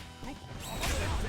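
A Shatter Strike in King of Fighters XV lands as a sharp crash and smash that swells into a loud, bright burst near the end, over game effects.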